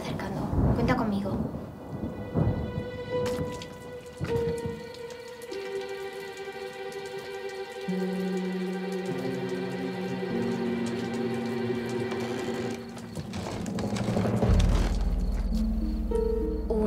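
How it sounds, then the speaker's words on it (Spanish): Rolling thunder and steady rain as a storm approaches, heard under sustained tonal music that builds with a deep low swell near the end. "la tormenta se está acercando."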